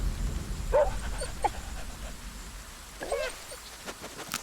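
A dog in the medieval video game Ken Follett's Pillars of the Earth gives a few short whining yelps and whimpers, spaced apart over a low background murmur.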